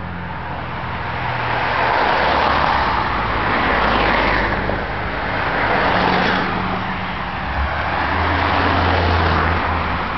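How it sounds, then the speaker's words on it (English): Cars drive past on a road with a broad, continuous roar of tyres and engines that swells and fades as each vehicle goes by, fairly loud and close, with no talk. "There's some cars coming. I'm going to let them go by."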